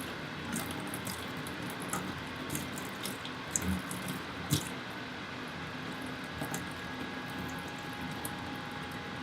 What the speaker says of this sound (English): Rinse the bottle out a few times.